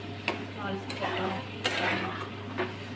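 A metal spatula scrapes and stirs food in a pan on an induction cooktop during home Bengali-style cooking, with repeated clinks and scrapes over a steady hum and faint sizzling, and a person talks quietly in the background.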